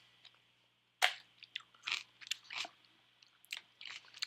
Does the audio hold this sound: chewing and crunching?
yes